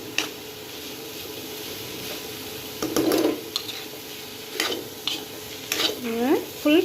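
Masala sundal chickpeas stirred in a hot pan over a full flame, with a steady low sizzle and scattered scraping spoon strokes and clinks against the pan, close up and without talk.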